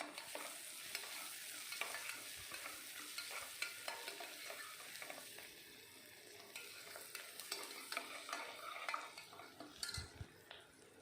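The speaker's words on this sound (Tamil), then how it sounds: "வெங்காயம் நல்லா கலர் சேஞ்ச் ஆகிற அளவுக்கு நல்லா வதங்கணும்." Onions sauté with rock salt in a pan for an egg gravy, with a steady soft sizzle under a spoon scraping and stirring against the metal, and occasional light clinks close by.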